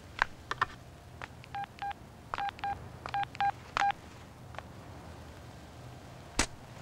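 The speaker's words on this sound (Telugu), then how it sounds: "ఒక ఫోన్ చేసి చూద్దామా" A telephone number is dialed on a keypad in a Telugu film scene: about nine short, clear DTMF beeps in an uneven rhythm, with a few faint clicks between them, over a quiet room.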